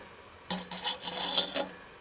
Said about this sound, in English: I'm taking my little Dremel here, and I'm gonna make a little valley where I can weld here.